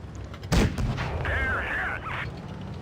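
A single sharp cannon shot from the Ru 251 light tank in World of Tanks Blitz, loud and close, followed by a ringing whine and low rumble of battle.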